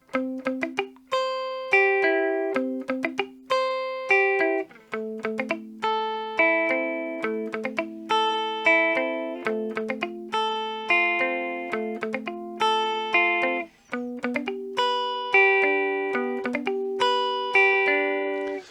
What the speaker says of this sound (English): Sometimes I just use it on the way down, but on the way up I let the strings ring freely